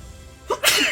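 A single sharp sneeze bursts out close and loud near the end of a brief quiet moment, with a short intake before the explosive release.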